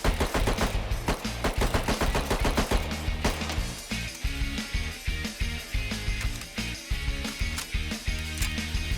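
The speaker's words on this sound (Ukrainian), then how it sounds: "Перше це саморобний SMG, який можна знайти у першому верстаку." A homemade SMG fires in the video game Rust, rapid automatic bursts of sharp, punchy shots coming loud and close, with brief pauses between strings of fire.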